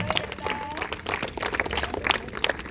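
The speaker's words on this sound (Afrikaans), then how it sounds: "Kom ons gee 'n lekker hande klap vir Benita." Applause for Benita at a child protection week school visit in Ashton, a scattered, moderately loud clapping that runs throughout, with some voices mixed in.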